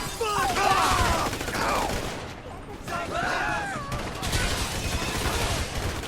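Gunfire from a GTA V Online session, dense bursts and volleys of shots pounding steadily throughout, with excited voices talking over the shooting.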